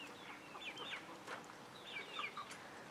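Golden Comet hens and crossbreed chickens cluck and murmur softly on a crisp morning, with repeated short calls in a loose rhythm, faint and fairly distant over quiet outdoor ambience.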